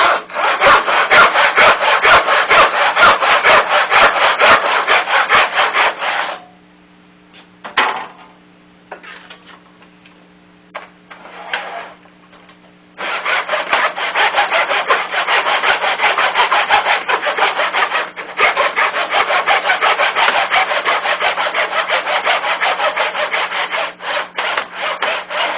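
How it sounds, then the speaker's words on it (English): Hand sawing wood with a panel saw and then a back saw, long runs of rapid rhythmic rasping strokes, close and loud, with a pause of lighter scraping and clicks between the two sawing runs. "I have them come in with the panel saw and cut almost to the bottom of it, and then use the back saw to finish it off"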